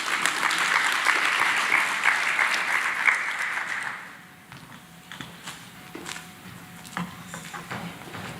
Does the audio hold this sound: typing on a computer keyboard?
no